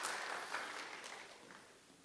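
Audience applause at a church youth Bible meditation seminar, a fading wash of many hands clapping at moderate distance, tapering off over two seconds with no talk.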